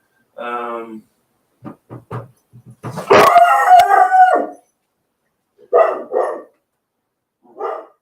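A service dog barks and howls indoors in several loud, separate bursts spread across the room, with some yelping and trailing yips in between.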